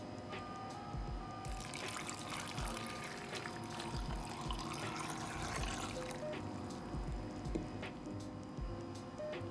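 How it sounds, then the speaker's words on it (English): Water pours steadily into a pot, a continuous splashing trickle amid faint kitchen background noise, with no talking. "I'm gonna be adding 4 cups of water."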